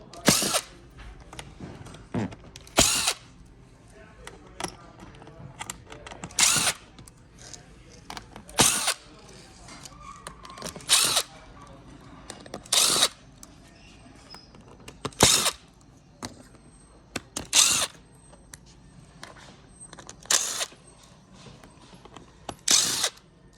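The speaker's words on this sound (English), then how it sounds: "We gotta start taking out these Phillips head screws." A power drill backs Phillips head screws out of a seat pan. Short whirring bursts repeat about every two seconds between quieter handling clatter, close and loud.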